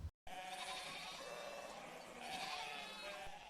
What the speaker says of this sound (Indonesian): Tiba-tiba Diao mendengar suara domba yang digembalakan seseorang.